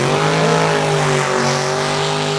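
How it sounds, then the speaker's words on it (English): A 1937 Chevrolet top sportsman drag race car runs at Lucas Oil Raceway during a spring race, its engine a loud, steady, close roar with dense harmonic drone that holds throughout. "The Atkins race car"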